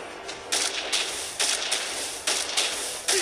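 Roger's gunshots in the Mobile Legends video game ring out as a series of sharp, separate cracks roughly every half second over a steady game background.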